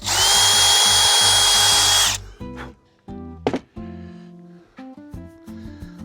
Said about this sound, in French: Donc là, on perce pour mettre la poignée.